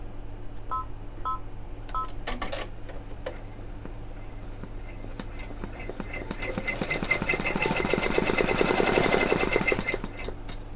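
An embroidery machine stitches onto Converse shoes, starting with a few beeps and clicks, then building into a rapid, rattling, mechanical run that grows louder before easing off.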